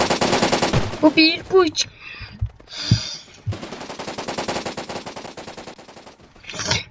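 Video game gunfire from Blockpost: rapid bursts of automatic shots and single cracks, loud and close, running throughout under a player's talk.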